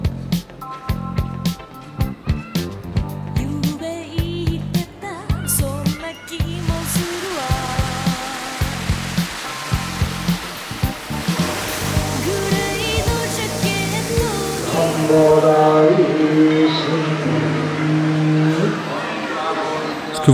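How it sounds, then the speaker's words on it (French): Monks chant a Buddhist prayer at Sensoji temple in Asakusa, Tokyo. Rhythmic percussive beats come first, then sustained droning voices build into a full, steady chant. "Ce que vous entendez là, c'est en fait une prière bouddhiste effectuée par les moines du temple."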